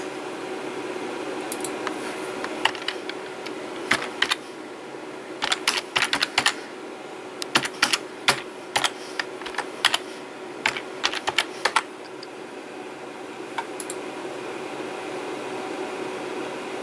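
Irregular bursts of key clicks from a cat stepping on a computer keyboard, in quick clusters over a steady background hum.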